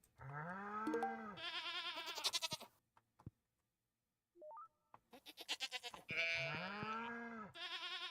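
Goats bleating in the Stardew Valley video game, several loud repeated game-style bleats in two bursts separated by a short near-silent gap with faint electronic blips.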